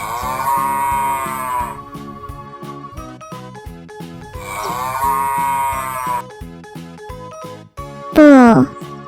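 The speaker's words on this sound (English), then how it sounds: "Bull." A bull moos in two long, drawn-out calls heard close and loud over a repeating musical backing track, followed by a short rising cartoon-like sound effect at the end.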